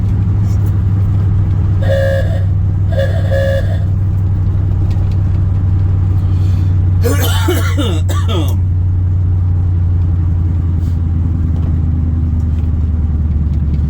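A 1971 Chevrolet C20 pickup truck on a test drive, with a loud, steady low engine rumble throughout, two short horn toots early on, a brief rattling burst midway, and a voice speaking over it.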